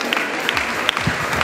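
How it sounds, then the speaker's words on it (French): Audience applause for a Hungarian rider at a junior show-jumping championship in Le Mans, a steady wash of clapping from a crowd at moderate distance throughout the short moment. "Vos applaudissements pour Miklós Somogyi pour la Hongrie."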